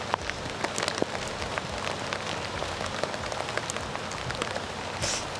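Steady rain falls and patters on the ground at an outdoor eventing venue with horses, a continuous dense hiss of drops with no talk.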